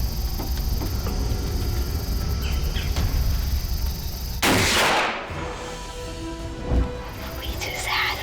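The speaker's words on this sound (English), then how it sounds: "I just shot him" A single loud rifle shot fired at a whitetail deer on a hunt, a sharp blast followed by a brief rolling echo, with outdoor insect and bird ambience and hushed voices before it.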